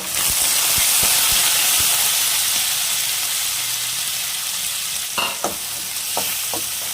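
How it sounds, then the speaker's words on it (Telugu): Garlic and curry leaves crackle in hot oil with lentils for a tempering, a loud continuous sizzle close by, with a few scraping stir strokes near the end and no voices. "ఇప్పుడు మనం పప్పులు వేగిన తర్వాత వెల్లుల్లిపాయలు కరివేపాకు వేసుకునేసేయాలి"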